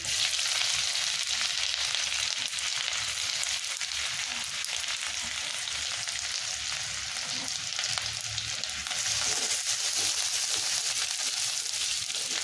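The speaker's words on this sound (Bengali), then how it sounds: "আদা রসুনের কুচিটা একটু ভালো করে ভাজা ভাজা করে নেব।" Chopped ginger, garlic and dried chillies fry in hot oil with a steady, dense sizzle, close and loud, running continuously without any talk.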